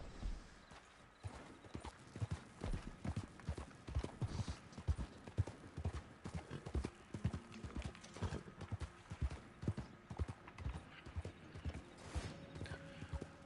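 A horse's hooves clip-clopping steadily on auto ride in the Red Dead Online video game, a quiet, even rhythm of hoof strikes with a brief whinny and soft tack sounds, heard alone.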